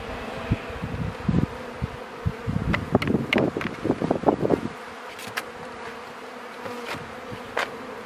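Honeybees buzzing around an opened hive during an inspection, a close droning hum with individual bees passing near, mixed with knocks and scraping of hive parts, then a quieter buzz.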